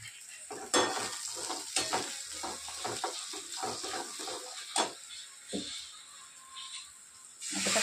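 Asafoetida dropped into hot oil in a pan for ambadi leaf chutney, a soft continuous sizzle broken by repeated clinking, scraping stirs, fairly quiet and close.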